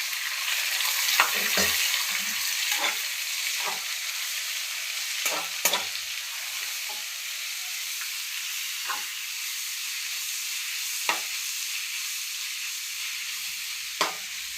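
Onions, tomato and green chili fry in a hot pan, a steady bright sizzle and hiss with scattered spoon clicks and scrapes, close and moderately loud.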